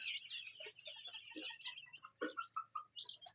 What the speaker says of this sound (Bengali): ভিডিওটা আমরা আজ উপস্থাপন করেছি 13 দিন বয়সী বাহামা মুরগির বাচ্চা